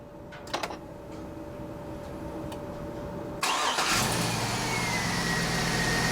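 A 2003 Cadillac Escalade's 6.0L engine cranks and catches after a starter replacement, jumping from a quiet hum with a few clicks to a loud, steady idle that runs on to the end.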